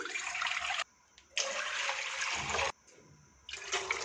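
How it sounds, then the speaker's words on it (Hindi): Water pours into a pan in a kitchen while peas are being prepared for storage. There are three rushing bursts of pouring separated by short pauses, heard close. "एक पैन में पानी डालेंगे"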